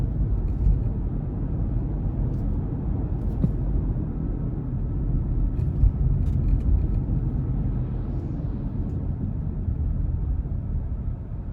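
2021 Subaru Outback Limited with all-wheel drive on a road drive: a steady low rumble of road and engine noise heard from inside the cabin, even throughout with a few faint clicks, no talk.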